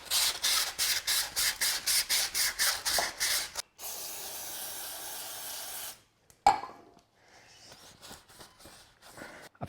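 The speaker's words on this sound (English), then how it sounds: "I used some sandpaper, then I used some brake cleaner just to clean" Hand sanding rasps in quick rhythmic strokes, then brake cleaner sprays in a sustained hiss onto the diff cradle of a Ford Falcon, followed by a sharp knock and quieter handling.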